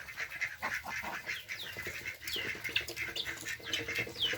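Ducks in a wooden pen quack in irregular bursts, with some wing flapping, the calls fairly close but soft against a quiet farmyard background.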